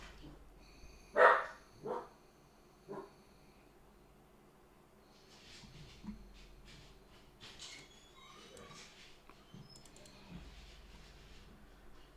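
A dog barks indoors a few times in quick succession, faint and off in another room, followed by quiet keyboard typing and soft background sounds.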